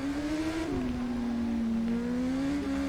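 A Kawasaki ZX-10R racing motorcycle engine at high revs drones continuously on a fast section of the Isle of Man TT course, pitch dipping briefly as it short-shifts up through the gears then climbing again, loud and close.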